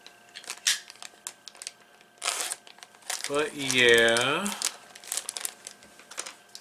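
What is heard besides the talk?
scissors cutting pieces out of a plastic bag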